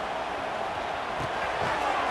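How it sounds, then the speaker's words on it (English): Dense, roaring crowd at a college football game between Tennessee and Texas in a packed stadium, a continuous loud wash of cheering and shouting with no breaks. "listen to this crowd noise. This stadium is vibrating."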